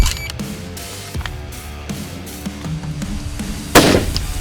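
A few sharp, distant-sounding rifle cracks spaced out over several seconds at a long-range shooting championship, followed by one louder, close report near the end, over a faint outdoor background.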